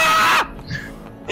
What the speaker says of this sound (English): Scream at me, chat!